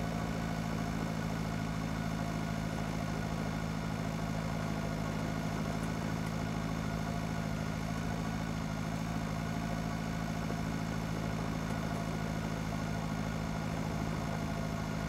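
A Zetter 80 tractor in the farming game Pure Farming 2018 idles with a steady, low engine hum that holds constant and unbroken throughout.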